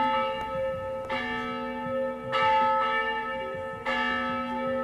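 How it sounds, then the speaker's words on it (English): Church bells ring out at the Old Mission, marking the opening of Old Spanish Days, with repeated strikes every second or so and long sustained resonant tones overlapping and swelling, fairly close and loud with no talk. "as the bells ring here at the Old Mission, that signals Old Spanish Days in its 99th year has arrived"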